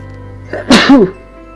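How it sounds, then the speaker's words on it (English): A single loud, close sneeze bursts out in two quick parts, followed by a faint exhale over a quiet steady background hum. "I sneeze a lot"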